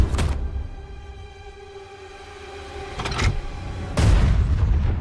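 In an animated Batman series, a police station is destroyed by explosions: a sharp boom, then a low rumbling stretch, a second short blast and a heavy third burst that rolls on, loud and close.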